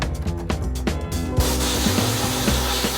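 A machine tool takes the lightest cut back through metal while restoring a steam hammer, a rough grinding scrape that starts pulsing and then turns into a continuous loud hiss.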